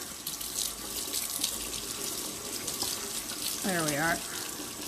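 Tap water runs steadily into a sink as a used Blackberry Bliss ink pad is rinsed out during a refurbishing job. A brief spoken remark rises over the splashing stream near the end.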